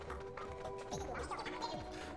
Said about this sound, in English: Oh, Cleridwen gets to ride the horse.